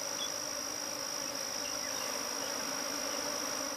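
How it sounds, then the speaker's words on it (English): Swarm of bees buzzing near a hive in Uganda, a dense, continuous drone with a steady high whine, loud and unbroken throughout. "number of bees coming out increases to a swarm"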